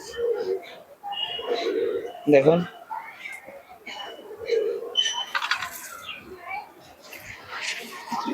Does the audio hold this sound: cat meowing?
no